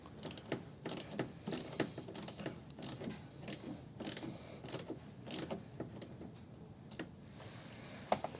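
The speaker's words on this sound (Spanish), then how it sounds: "van a apretar muy bien estos dos tornillos con el dado de medida 8 milímetros, la extensión y la matraca" An 8 mm socket on an extension and ratchet tightens screws on a Nissan Tiida's air duct, giving a quiet, steady run of close ratchet clicks in regular bursts.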